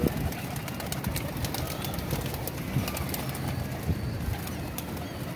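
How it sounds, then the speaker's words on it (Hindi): Pigeons coo steadily and softly amid a dense, continuous background murmur of many birds, with faint flutters now and then. "बड़े अच्छे कबूतर हैं, प्रवासी कबूतर, नए परों पे कबूतर हैं सबके सब।"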